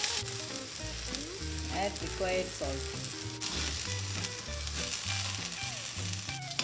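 Curry leaves sizzle and crackle in a hot pan for chutney with a steady frying hiss, under background music, while a voice speaks briefly.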